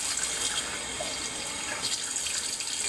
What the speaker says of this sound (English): Got some water running